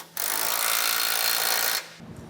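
A single continuous burst of a power tool or impact wrench tightening a base plate bolt on a 2015 GMC Canyon, loud and close, lasting under two seconds before cutting off to quiet.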